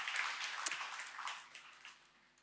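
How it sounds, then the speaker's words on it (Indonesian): Church congregation applauding during an Indonesian sermon, a dense wash of fairly quiet clapping that swells at first and gradually fades away, with no voices over it. "Saya berikan tepuk tangan buat Tuhan Yesus yang baik."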